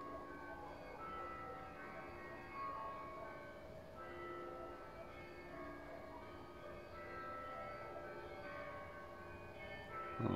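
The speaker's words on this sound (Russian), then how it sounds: "О, колокола, недалеко церковь." Church bells ring from a nearby church on a humid Sunday morning, steady tones layered faintly under low background noise with no speech.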